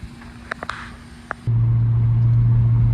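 Lexus GX460 SUV on the road with a steady, loud low engine and road rumble that starts abruptly partway through, after a few faint clicks and knocks.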